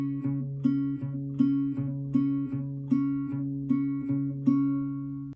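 A song's intro played slowly on a capoed guitar, about a dozen evenly spaced plucked notes over a sustained ringing drone, quiet, close and alone.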